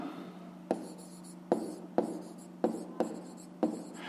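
A pen writes digits onto paper, close and clear: six sharp, scratchy strokes spaced unevenly about half a second to a second apart over a quiet room background, with no talking.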